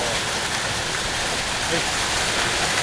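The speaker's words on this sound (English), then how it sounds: "I don't know if you can hear this, me over the racket, but that is loud. It is bouncing into the door." Hail pours down and bounces off a door during an April storm, a dense, loud, continuous hiss and patter filling the whole stretch, with a brief voice barely audible underneath.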